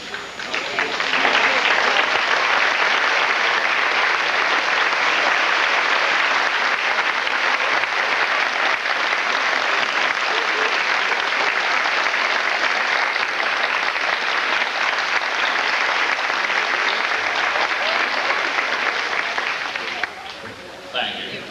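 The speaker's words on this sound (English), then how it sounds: "give you a round of applause" A large crowd at a 1987 sesquicentennial celebration event in Highland, Illinois gives a loud, sustained round of applause that holds steady for about twenty seconds before tapering off, with a voice faintly present near the end.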